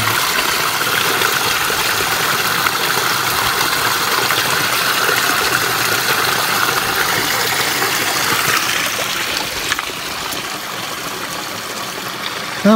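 A small stream flows over a rocky riverbed with a loud, steady, close rushing wash that continues without a break.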